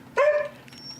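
An old pet dog gives a single sharp, loud bark up close, followed by a brief quieter tail.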